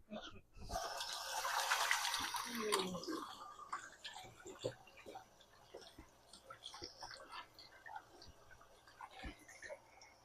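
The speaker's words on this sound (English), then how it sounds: "I'm gonna wash my hand really quick." Water from a tap rushes loudly at first and then settles into softer splashing and dripping as hands are washed, with small clicks and clatters scattered throughout.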